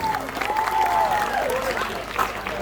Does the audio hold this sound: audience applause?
yes